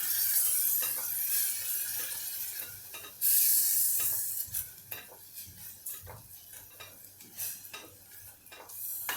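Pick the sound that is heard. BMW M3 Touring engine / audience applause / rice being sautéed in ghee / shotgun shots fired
rice being sautéed in ghee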